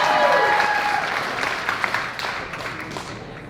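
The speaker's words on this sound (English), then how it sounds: "Come on, give him a good round of applause." A comedy club audience applauds loudly and steadily to welcome a stand-up comedian at a graduation showcase, dense clapping that slowly thins out, with some crowd voices mixed in.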